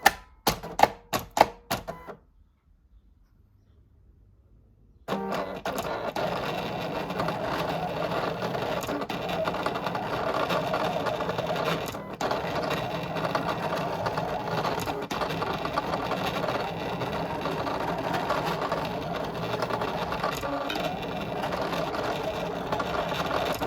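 A Silhouette Portrait 3 vinyl cutter cuts a decal with a steady mechanical whir and buzzing motor, continuous for most of the time after a few sharp clicks and a brief pause at the start.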